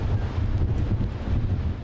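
Strong storm wind in southwestern Britain, gusting close to 100 mph, buffets and roars against the microphone in a loud, continuous low rumble.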